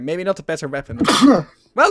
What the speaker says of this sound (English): My body immediately wanted to sneeze.